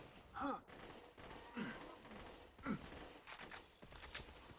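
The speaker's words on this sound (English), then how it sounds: "I also hear a shock SMG down there." Shock SMG fire in Borderlands 2 rattles in faint, distant bursts. A rapid string of shots comes near the end, between louder swooping in-game creature cries.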